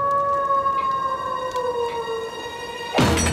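A long, wavering howl from a cartoon wolf rises and slowly falls in pitch, carrying on steadily before ending in a sudden loud burst of noise.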